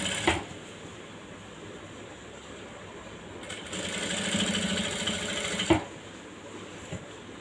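A sewing machine stitches 1-inch elastic onto one edge of fabric, a steady mechanical whir running throughout with a louder stretch in the middle and a sharp click near the end, heard alone.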